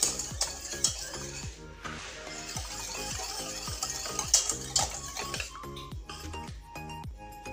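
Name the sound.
lemon cream mixture cooking in a saucepan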